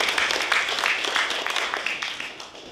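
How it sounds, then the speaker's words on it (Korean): An audience at a book launch event claps steadily in a sustained burst of applause, a dense, moderately loud patter of many hands with no words spoken. "박수 한번 주시죠"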